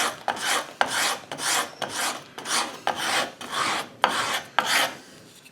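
Hand scraper drawn across wood in rhythmic rasping strokes, about eight close scrapes at a steady pace, each a dry, gritty rub lifting fine shavings.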